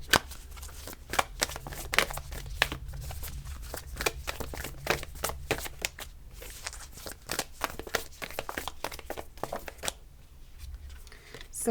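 Tarot cards being shuffled close up, a long run of rapid crisp riffling and slapping bursts in irregular clusters, with brief pauses between and quiet talk now and then.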